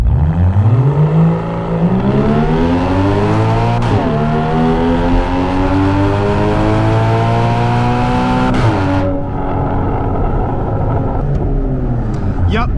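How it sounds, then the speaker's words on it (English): A loud 2016 Porsche Cayman exhaust roars through rising gear pulls from a standing start, with two quick shifts breaking the climbing engine note before it eases off; voices talk over the engine. "the cops will absolutely hear this exhaust"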